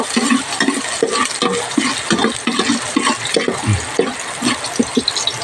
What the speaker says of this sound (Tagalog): Sibuyas at saka bawang. So, haluin natin.